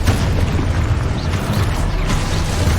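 A Confringo fire-explosion spell cast in the video game Hogwarts Legacy, on hard difficulty, erupts as a loud, sustained booming blast with dense rumbling low end lasting the whole moment, no voices over it.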